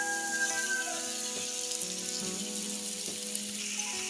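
Chicken pasta sauce fries in a pan after soy sauce is added, giving a steady, close sizzle with a bright hiss that keeps up for the whole stretch, with no voice over it.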